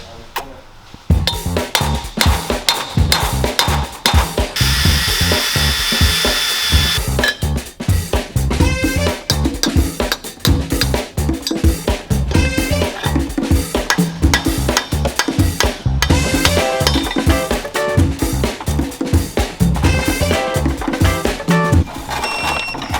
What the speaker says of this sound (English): Get the pinion nut torqued, see what our load is versus what our torque is on the nut.